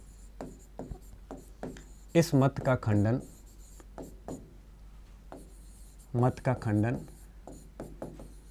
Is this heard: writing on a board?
yes